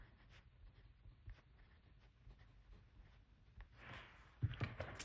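Pen writing on a planner sticker, faint soft scratching strokes in a quiet room, ending with a few brief louder taps and rustles.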